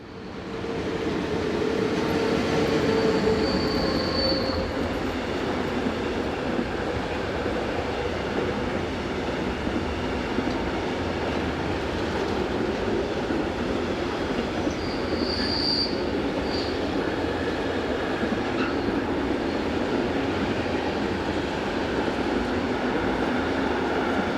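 A long freight train runs on the Gotthard south ramp in Switzerland. Its wheels rumble steadily and close for the whole stretch, with high, sharp flange squeals rising now and then.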